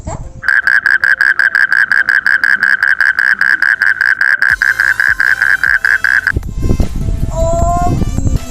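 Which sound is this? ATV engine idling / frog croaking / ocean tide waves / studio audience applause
frog croaking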